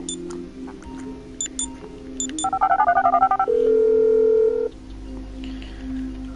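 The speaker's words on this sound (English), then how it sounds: "I'm making the call!" Phone dialing a call in the video game GTA: a rapid string of keypad tones followed by a steady held tone, clear and close, with faint background game sounds around it.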